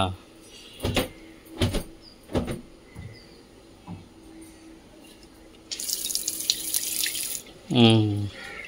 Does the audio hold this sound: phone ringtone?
no